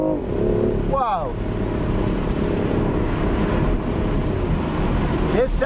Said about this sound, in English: This car actually sounds pretty good. I don't care if the sound is fake, but it actually sounds pretty good.